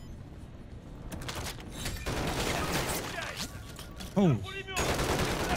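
An automated sentry gun fires a steady burst of gunfire in the Call of Duty Modern Warfare 3 mission "Precious Cargo," continuous and loud amid battle noise, with a brief voice near the end.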